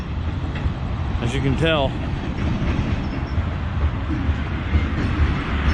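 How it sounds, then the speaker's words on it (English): A freight train of tanker cars rolls past in Arizona with a low rumbling and clattering wheel noise, while someone talks over it and a horn-like whine rises briefly. "Whole shitload of tanker trains, cars, whatever"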